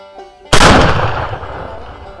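A single loud shotgun blast during a turkey hunt, sharp and close, with its boom trailing off over the following couple of seconds.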